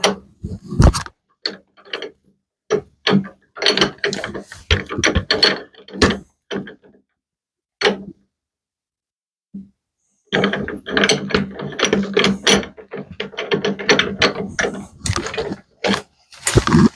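A bench vise being tightened on the spigot of a chuck gives a run of sharp ratcheting and mechanical clicks, loud and close, in bursts with short pauses, then a longer steady stretch of clatter after a silent gap.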